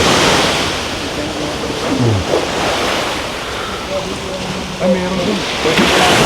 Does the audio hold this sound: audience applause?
no